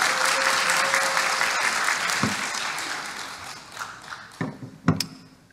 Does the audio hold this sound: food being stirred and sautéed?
no